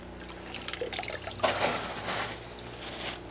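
Water trickling and splashing in a bucket as plant roots are handled for a hydroponic setup, soft drips building to a fuller splash midway, close and moderately quiet.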